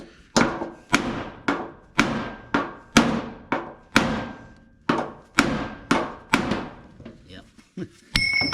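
A pipe hammer pounds the steel fender of a 1964 Impala, landing about a dozen sharp, ringing blows in steady rhythm before trailing off into lighter taps and a brief high tone.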